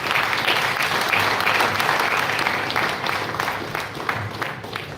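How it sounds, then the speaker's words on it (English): An audience gives a round of applause for a presenter at a management school session, a full steady wash of clapping that gradually thins and softens toward the end. "We may have a big round of applause for the presenter also."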